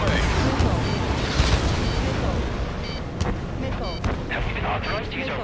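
Missile launch and explosions during an aerial combat raid in Ace Combat 7, heard as loud, continuous rumbling blasts and bursts of fire with a crackling, dense wash throughout and radio-style voices faintly mixed in.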